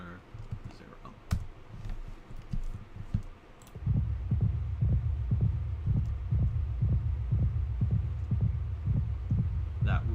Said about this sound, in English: That rapid fire heartbeat that's just gonna follow you around.